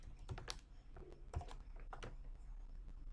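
Keys clacking on a computer keyboard while a MySQL command is entered, a handful of close, crisp keystrokes spaced irregularly over a quiet room background.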